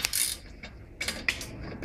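A 17mm spanner ratchets on the track rod end nut of an Audi A4, giving a few quick metallic clicking bursts in close succession, near and crisp, with no talking.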